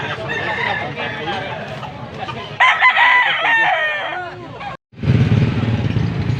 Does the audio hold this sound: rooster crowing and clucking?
yes